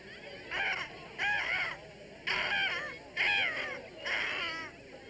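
Several people imitating buzzard calls in a contest, a string of hoarse, wavering cawing cries in four or five bursts, moderately close over a faint outdoor background.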